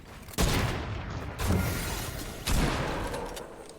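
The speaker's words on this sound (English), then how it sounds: "I'm just gonna SMG him to death." SMG gunfire in the Fortnite video game, three loud dense bursts of rapid automatic fire back to back, each one rolling on without a break.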